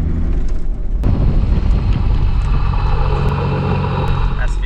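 A 4WD repeatedly braking to bed in new pads and rotors, with a loud, continuous road and engine rumble that swells after a short quieter start, plus occasional sharp clicks.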